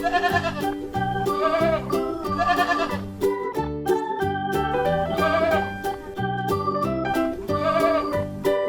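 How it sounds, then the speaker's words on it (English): Goats bleating in a farm setting, several loud, wavering calls repeating in close succession over a few seconds, sounding near and clear with no talk. "Goat."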